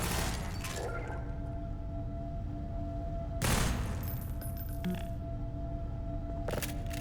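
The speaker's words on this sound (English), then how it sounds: "Oh, there's another gun emplacement." Gun emplacement in the video game Half-Life 2 firing over a constant loud background rumble, with a few short bursts of rapid shots, one stronger burst in the middle.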